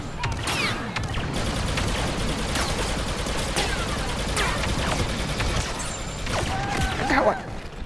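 Rapid bursts of blaster and gunfire crackle through a Star Wars Battlefront II online multiplayer battle, with sharp shots scattered across the whole stretch and a louder clash near the end.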